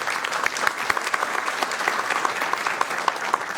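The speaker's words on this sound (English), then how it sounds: "Give him a big round of applause." At a city council meeting, the audience gives a round of applause for the Consul General of Mexico, a steady, fairly loud wash of many clapping hands with a few sharper individual claps standing out.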